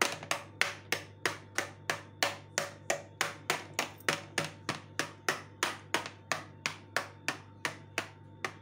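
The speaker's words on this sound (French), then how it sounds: "Je vais percer la pâte pour qu'elle ne gonfle pas." A fork pricks flat, circle-shaped pizza dough for a mushroom and cheese pizza, giving a steady run of about twenty sharp, evenly spaced taps against the pan, close and alone with no talk.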